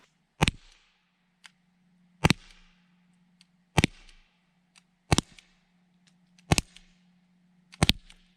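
A 50-caliber less-lethal launcher fires Razor Gun Devastator rounds outdoors: six sharp, loud cracks spaced about a second and a half apart, each with a short fading tail.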